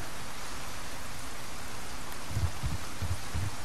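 Steady, dense rainfall from the video game Resident Evil 4 Remake hisses evenly throughout, with a few soft low thumps near the end and no talking.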